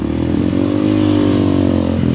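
A Tornado 293cc motorcycle engine runs steadily at low, labouring revs on a rocky mountain trail, loud and close, with a continuous throbbing tone and no talk.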